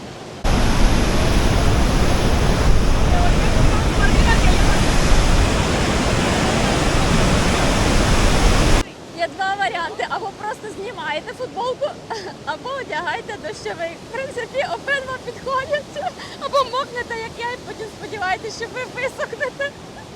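Iguazu Falls on the border between Brazil and Argentina, a loud dense roar of falling water for about nine seconds, then an abrupt cut to quieter surroundings with voices.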